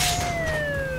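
Police car siren in the Spider-Man 3 video game, a loud, steady wailing tone sweeping slowly downward, heard alone and close for about a second.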